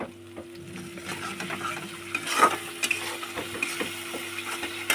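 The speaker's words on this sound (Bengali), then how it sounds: "মশলাটাও কষিয়ে নেবো আমি" A spice and yogurt paste for dhaba-style chicken keema sautés in a pan, a soft sizzle broken by frequent scraping stirs and small clacks of the spoon, close up with no voices.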